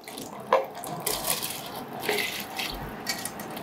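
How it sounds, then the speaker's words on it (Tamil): Soaked rice tipped into a pot of water for Tamil ghee rice, giving soft splashing and pouring water with a few small splashes, fairly quiet and close. "இந்த வடிகட்டின தண்ணியை அரிசியை இதில் போடுவோம்."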